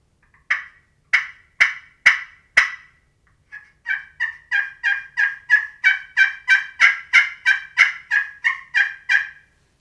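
A Primos slate turkey call scraped by hand: five sharp yelps, a pause, then a fast run of about fifteen clucking purrs, loud and close.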